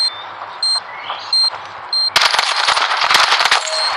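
Rapid gunfire in the mobile shooter Standoff 2, a dense burst of loud close shots after several short electronic beeps, heard alone without talk.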